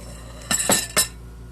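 A few quick metallic clinks and scrapes of a spoon mixing cranberry salad in a bowl, three short bursts close by in a quiet room.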